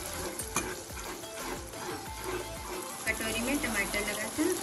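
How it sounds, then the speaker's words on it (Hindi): Onion frying with garlic and ginger in a pan for a soybean and lentil kofta curry, with a steady close sizzle and repeated scraping stirs running throughout. "1 मिनट तक प्याज को भी भून लेंगे।"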